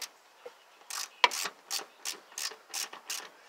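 Ratchet wrench clicking as spindle bolts are snugged on a Toro Zmaster 400 mower deck: a short bright snap, then six or seven evenly spaced ratcheting bursts, close and moderately loud.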